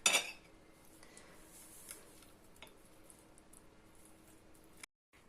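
A knife and fork cut food on a plate at a home breakfast table, giving faint, sparse clinks and scrapes. A brighter clatter comes at the start, followed by quiet ticks against a hushed room.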